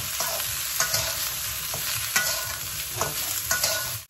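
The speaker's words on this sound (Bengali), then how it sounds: "এই যে আমার গুলা দিলাম তো একটু ফ্রাই করব" Vegetables sizzle steadily in a pan for a village-style vegetarian dish, with a dense crackling hiss and several sharp scraping stirs of a utensil at irregular intervals, close and fairly loud, no voices.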